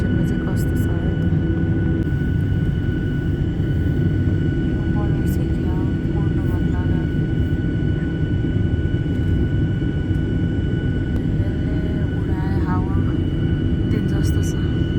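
Steady loud roar of an airliner cabin in flight through snowy winter country, constant broadband engine and airflow noise throughout with faint tonal hums and a few light clicks.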